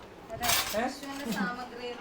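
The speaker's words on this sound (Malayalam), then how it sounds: "ഇതൊക്കെ ഉപയോഗിച്ചിരുന്ന പാത്രങ്ങളാ" Dishes and pots clink and clatter in quick bursts close by, with a voice speaking over the clatter.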